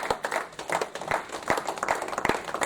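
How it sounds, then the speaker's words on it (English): A church congregation claps together in a steady burst of fairly quiet, even handclaps, with no voices over it. "Clap for Jesus."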